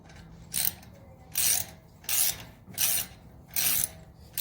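Five evenly spaced bursts of metallic ratcheting, each about a quarter second long, repeating in a steady rhythm as a wrench threads bolts to press off a stuck rotor on a 2016 Toyota 4Runner, close up.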